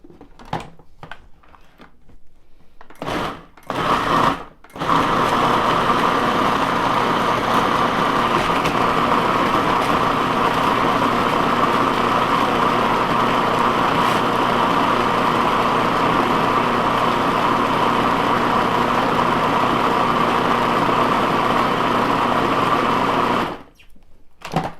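A kitchen machine whirs continuously for about twenty seconds as it blends chocolate mousse made with almond milk, a loud, steady motor hum with a brief start-up stutter and a clean stop.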